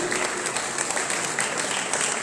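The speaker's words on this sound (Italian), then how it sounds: "Bell'applauso" Applause at an alumni reunion as the graduating class of 1993 stands up, a steady wash of many hands clapping at moderate level with no clear pauses.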